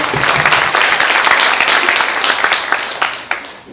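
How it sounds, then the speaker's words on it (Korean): A crowd at a Korean fire station open-house event applauds to welcome a fire aviation unit helicopter pilot, with loud, dense clapping that thins out toward the end. "큰 박수로 맞아주시기 바랍니다."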